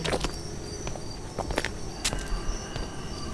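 People walk along a quiet path at night, their soft footsteps landing in an uneven rhythm over a faint chirping of crickets and insects.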